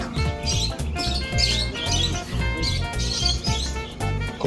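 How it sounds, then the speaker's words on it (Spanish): Small birds chirping and tweeting continuously at an outdoor bird show, loud, close and busy, with a steady layered chorus of high calls and no talking. "Ahí hay un pajarito comiendo aquí."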